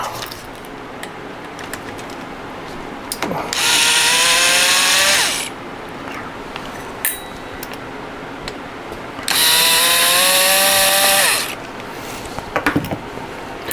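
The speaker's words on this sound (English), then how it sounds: "So let's get those screws out." Screws being backed out of the tone board of a Sansui 9090DB stereo receiver with a powered driver, heard as two separate whirring bursts of about two seconds each, close and loud, with quiet workbench handling between them.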